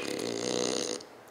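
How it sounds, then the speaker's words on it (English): A deep, rattling snore drones on for about a second, then breaks off into quiet, followed by a brief faint click. "why are you snoring?"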